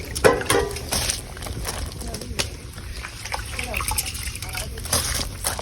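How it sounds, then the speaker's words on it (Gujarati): Rice is tipped into a pot of water already holding soya chunks and paneer, giving soft sloshing, trickling and splashing, with voices talking over it throughout. "આ ચોખા નાખું"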